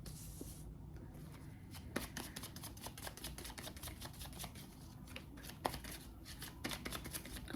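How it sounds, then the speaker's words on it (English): Tarot cards being shuffled close up, a quiet run of quick riffling flutters and soft card slaps repeating in an uneven rhythm. "I'm going to go ahead and shuffle this."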